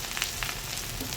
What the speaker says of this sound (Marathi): यामध्ये आता मी लसूण अद्रक कुटून टाकत आहे.